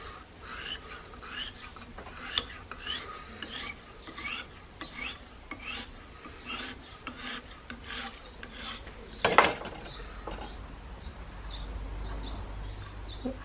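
A fine file worked along the edge of a SOG Terminus knife, rhythmic rasping strokes at an even pace, close and clear, ending with a brief clack and a low rumble.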